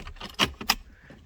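BMW car keys jangle in two quick bright shakes close by, with a quiet background between them.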